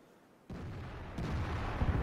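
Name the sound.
artillery shell firing in video game World of Tanks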